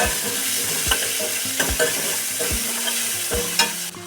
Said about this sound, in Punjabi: ਲਸਣ ਤੇ ਅਦਰਕ ਭੁੱਜ ਗਿਆ ਜੀ ਭੁੱਜ ਕੇ ਬਿਲਕੁਲ ਤਿਆਰ ਹੈ ਜੀ